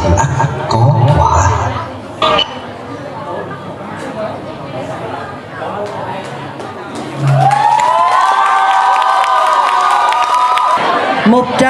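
A school Halloween show audience cheers and shouts with a loud crowd roar after a student skit. Voices and hubbub run throughout, and later tonal music swells over the noisy room.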